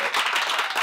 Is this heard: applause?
yes